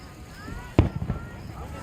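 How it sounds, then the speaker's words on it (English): Fourth of July fireworks burst with one sharp, loud boom, then a few smaller crackling pops trail off against a quiet night background. "Oh, we have beautiful fireworks."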